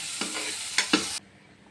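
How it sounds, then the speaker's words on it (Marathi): Onion and tomato tempering sizzles in hot oil for about a second, a steady hiss broken by a few sharp spits, then drops abruptly to quiet. "इकडं कांदा टमाटरचे आपण फोडणी देणार आहोत"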